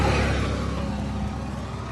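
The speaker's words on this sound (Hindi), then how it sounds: "तो भाई सोनालिका 35 है भाइयों का ट्रैक्टर।" A Sonalika 35 tractor engine running steadily in a village, a loud continuous low rumble with a slight revving quality and no speech.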